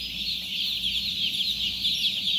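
A poultry farm crowded with tens of thousands of chickens in Taiwan, producing a dense, continuous chorus of clucking that fills the space, close and loud with no talking.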